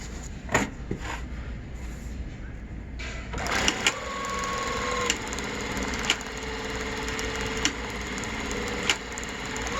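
A Juki DDL-8000A industrial sewing machine starts up after a quiet moment and runs steadily, its even mechanical whir broken by a few sharp clicks and taps, with no one talking.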